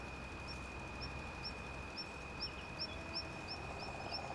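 Bird in a farming video game repeats a short sharp chirp about a dozen times at a steady rhythm, faint over a constant high tone and low background hiss, with no talk.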